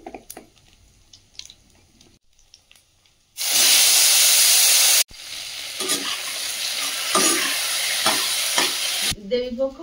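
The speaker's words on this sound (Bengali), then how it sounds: "ওই তেলে একটু পাঁচ ফোড়ন দিয়ে আলুটা দিয়ে দেব।" Potatoes hit hot oil seasoned with panch phoron, bursting into a loud, steady sizzle and hiss after quieter kitchen clatter, with scraping and stirring continuing through the frying.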